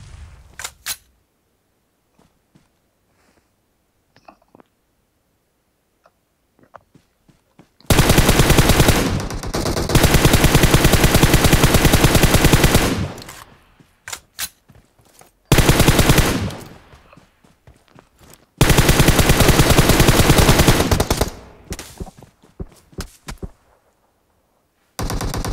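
Gunfire in the mobile battle royale game PUBG Mobile: long sustained bursts of automatic fire and scattered single shots, loud and close, broken by near-silent pauses.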